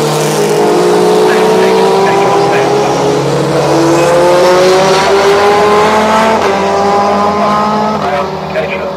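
Touring cars race around the Oulton Park circuit, engines whining loud and continuous with rising and falling pitch as they pass, the roar steady throughout with commentary-style voices underneath.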